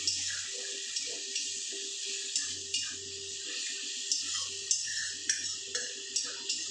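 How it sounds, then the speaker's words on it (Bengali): Small splash of water poured into spice masala frying in a pan, heard as a steady hissing sizzle with light bubbling and crackle, close and fairly even throughout. "একটু সামান্য জল দিলাম"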